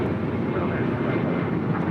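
A steady loud jet roar from an American Airlines airliner taking off at LAX, heard from nearby as a broad continuous rumble without any break.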